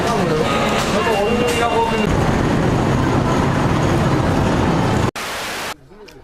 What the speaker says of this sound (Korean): 드디어 침대 칸이 있는 기차에 올라탔다.